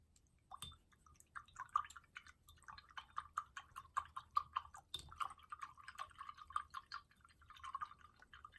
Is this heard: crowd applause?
no